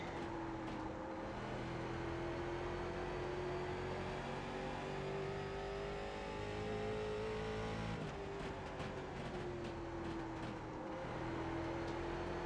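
Late model race car engines at North Wilkesboro in iRacing drone steadily and loudly throughout, the pitch rising and falling slightly with a brief dip midway, with no voices over the continuous engine roar.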